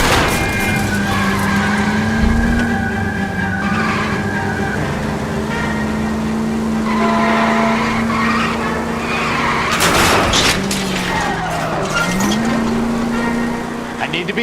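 Car chase in the L.A. Noire video game: a revving engine drones steadily throughout, loud and close, with tires screeching and skidding through the corners, plus scattered impacts and sharp bursts. Speech is present but faint.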